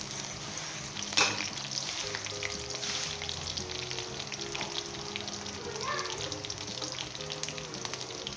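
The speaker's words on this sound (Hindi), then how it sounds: "इसे 1 से 2 मिनट तक हम जो है गोल्डन ब्राउन करेंगे, यानी इसका जो अदरक का और जो लहसुन का कच्चापन दूर करेंगे।" Ginger and garlic fry in a pan, giving a steady, dense sizzle with occasional stirring scrapes, while background music plays underneath.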